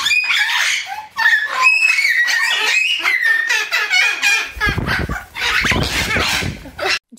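Pet parrots make shrill, wavering squawks and chirps as objection calls, close and loud, turning into a harsher, noisier screech toward the end.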